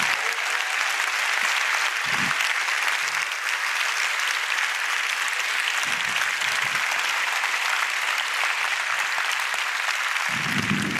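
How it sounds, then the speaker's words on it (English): An audience at the IDG Summit 2023 conference gives sustained, loud applause, a dense steady clatter of many hands clapping that continues without pause throughout. "we give them a big hand of applause"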